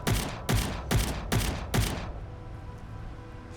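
Five loud, evenly spaced gunshots ring out in the video game Fallout: The Frontier, each a sharp crack with a short tail, then the shooting stops and only a faint background hum remains.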